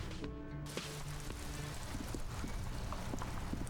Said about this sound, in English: A little bit sunny, a little bit cloudy, some rain coming down.